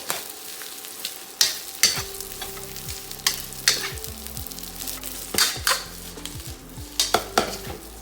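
About four cups of rice with garlic sizzle in a hot pan for egg fried rice, while a spatula scrapes and clacks against the metal in quick, uneven strokes close up.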